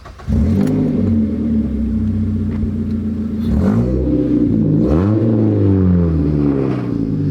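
A Mazda 3 with 149,000 miles and a homemade aftermarket exhaust rumbles loudly at idle, then revs up and down a few times with a raspy, throaty growl, with no voices.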